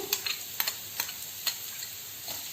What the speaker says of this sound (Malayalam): അതോടൊപ്പം തന്നെ ആ പച്ചമുളക്, ഇതൊന്നും കൂടെ വഴറ്റിയെടുക്കുക.